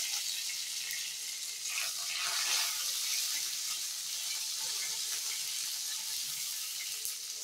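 Curry leaves and green chillies sizzle steadily in hot oil for a beetroot pachadi tempering, a continuous close frying crackle with soft stirring, no talking.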